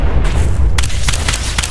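Enemy exploding in Fallout 4 VR, a loud deep boom followed by a rumbling tail and a few sharp crackling bursts, heard alone without talk.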